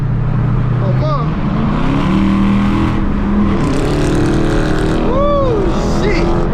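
Two Dodge R/T cars and a Mustang roar loudly on a highway, engine tones rising and falling through revs amid heavy wind rush, with shouted voices over the noise.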